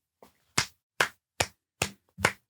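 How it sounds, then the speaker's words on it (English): Five sharp, separate hand claps at a slow, even pace, close and loud with silence between them, given as a round of applause. "Round of applause."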